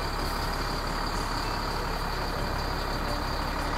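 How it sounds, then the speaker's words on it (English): An RV backs up slowly onto a tire protector set behind its tire on wet ground; a steady, loud diesel-like engine rumble and hiss hold throughout without pause. "Stu, back it up"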